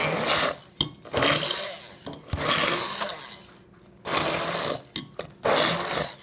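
A food processor chopping salsa runs in several short pulsing bursts, a loud grinding whir separated by brief pauses, with no talking.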